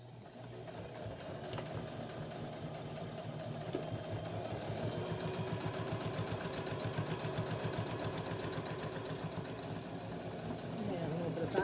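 A sewing machine stitches a lounge chair cushion in a steady, continuous mechanical whir with a fast rhythmic needle chatter that holds at an even level throughout.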